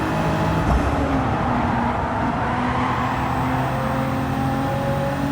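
A car driven in Gran Turismo 7 hums along in a steady, loud engine drone with a constant low tone, alone and unbroken throughout.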